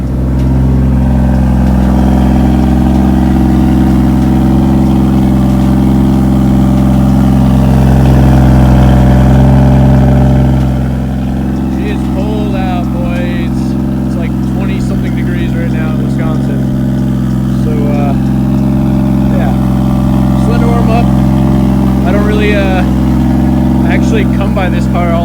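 A Lexus IS300 with a swapped 1JZ engine idles while warming up, a loud, steady low drone with a slight dip in pitch partway through, while a person speaks over it.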